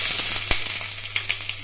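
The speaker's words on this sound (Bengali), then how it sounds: "ওই তেলের মধ্যেই আমি একটা একটা করে সবজি ভেজে নেব।" Vegetables such as carrot fry in oil left in the pan after bitter gourd, for Bengali sukto, a close, continuous sizzle with crisp crackles and small pops.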